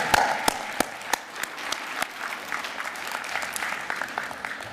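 Graduates at a West Kentucky college commencement in a fine arts hall applaud their loved ones, scattered sharp claps at first that build into a softer, sustained ripple of crowd applause from a large room.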